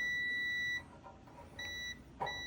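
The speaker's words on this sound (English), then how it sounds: "you should hear a beep" A multimeter on continuity mode tests a Maytag dryer's thermal fuse, giving a sustained high electronic beep, a short gap, then two shorter beeps, loud and close with no talking.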